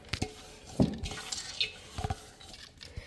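Water is poured into a grinder jar in a home kitchen while murukku batter is being made, heard as faint splashes and trickles with a few brief clinks, all close by.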